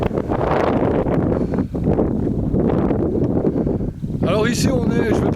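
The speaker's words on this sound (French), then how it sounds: "je vais parler un peu fort parce qu'il y a quand même pas mal de vent" Strong wind buffets the microphone in a constant low roar in Moraira, Spain, with a person talking loudly in French over it throughout.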